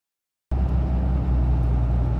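A 2004 third-generation Cummins diesel pickup on the road, a steady low engine drone and road rumble heard from inside the cab, continuous after a brief silence at the start.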